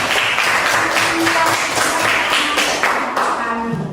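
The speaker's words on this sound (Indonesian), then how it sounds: "tepuk tangan buat Roland" Classroom students clap for a classmate, a dense steady patter of many hands running throughout at fairly close range, with faint voices mixed in.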